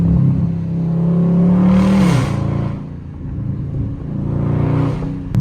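A Dodge Scat Pack's V8 engine drones loudly from inside the car, rising in pitch as it revs and accelerates, dipping between pulls with rough exhaust crackle and burbling, then climbing again.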